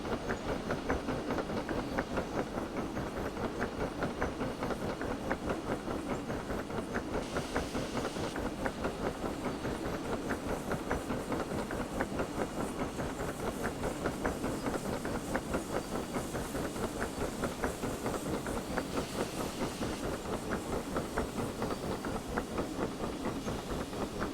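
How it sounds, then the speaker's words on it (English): A steam locomotive in the game Derail Valley chugs along with a rapid, regular beat and rhythmic clatter, loud and continuous with a steady hiss underneath. "It's very hands-on, this steam train."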